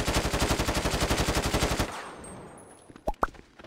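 Rapid machine-gun fire in a video game hitting the player, a loud burst of evenly spaced shots for about two seconds, then a fading tail with a couple of sharp electronic sounds.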